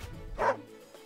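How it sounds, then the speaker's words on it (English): A single short bark from Caesar the dog in Wargroove, a quick close woof rising out of quiet game background. "Caesar says woof."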